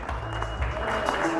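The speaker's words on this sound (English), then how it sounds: "Give them all a big round of applause" Audience applause rolls steadily through a room after a drum-off competition, a dense continuous wash of clapping and crowd noise at moderate level with no breaks.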